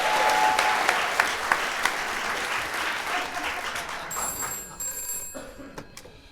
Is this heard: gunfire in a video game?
no